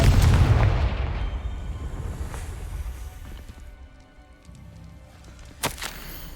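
A Confringo spell explosion in the video game Hogwarts Legacy: a loud blast that decays into a long fading rumble, followed later by a sharp crack.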